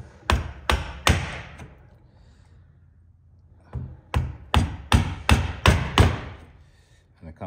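Mallet blows on a chisel chop out a through mortise in wood, three sharp knocks, a pause, then a quicker run of about seven loud, close, ringing taps.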